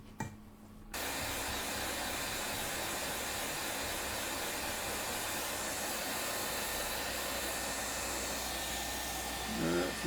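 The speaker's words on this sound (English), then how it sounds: "Once we start heating, we should see it bounce into place, which is fine." Hot-air rework heating a PS5 Slim circuit board during a repair gives a steady, loud blowing hiss that runs almost unbroken for about nine seconds after a short quieter start.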